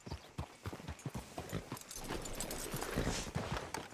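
Horse hooves clip-clop in Red Dead Redemption 2, a steady, close, rhythmic run of hoofbeats over a constant wash of ambient game noise.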